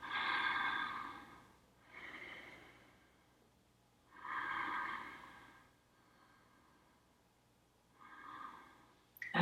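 Three slow, deep yoga breaths during a balance pose, each a soft, drawn-out airy inhale or exhale with quiet gaps between, close and faint, no talking.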